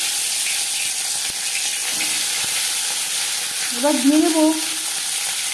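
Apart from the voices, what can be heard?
marinated fish sizzling in hot mustard oil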